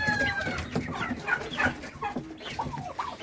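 Chickens clucking close by at feeding time in a busy overlapping chorus of short, choppy calls, fairly loud and continuous.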